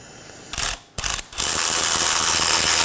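Brief loud ratchet bursts start and stop, then a long continuous run of fast clicking as a 21 mm socket snugs down bolts while replacing a front CV axle on a 2018-2024 Chevrolet Equinox 1.5L L4.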